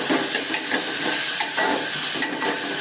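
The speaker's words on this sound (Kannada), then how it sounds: "ಟೊಮೊಟೊನೂ ಅಷ್ಟೇ ಸ್ವಲ್ಪ ಫ್ರೈ ಮಾಡ್ಕೊಳ್ಳಿ" Chopped onions and tomato fry for a fish sambar, giving a steady, loud, close sizzle with light stirring clicks throughout.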